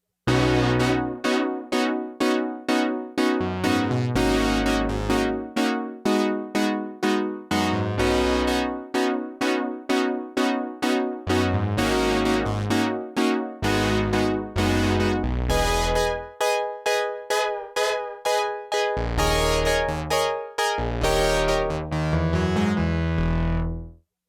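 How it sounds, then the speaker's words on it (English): A bright, sustained Prophet 10 analog synthesizer playing a melodic sequence of repeated notes with rich harmonics, loud and continuous with rhythmic pulsing for about twenty seconds. "on the Prophet 10 it sounds like this"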